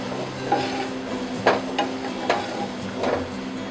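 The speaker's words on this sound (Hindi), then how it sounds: "इसको भी हम एक से दो मिनट तक भून लेंगे। साथ ही साथ हम इसमें चौथाई चम्मच नमक डाल देंगे" Onion and capsicum sautéing with salt in a pan, a low steady sizzle broken by several spaced spatula knocks and scrapes against the pan.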